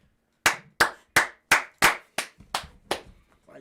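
About nine sharp hand claps close to the microphone in an even rhythm, the later ones a little softer, with quiet pauses between them.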